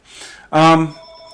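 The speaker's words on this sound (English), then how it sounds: "Phone's ringing." Telephone ringing in a classroom during a geometry lesson, a steady electronic ring tone with sustained tonal lines following a burst of talk; a voice speaks over the start of the ring.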